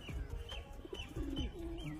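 Teddy pigeons cooing close by, soft repeated low coos with a few faint chirps over quiet background.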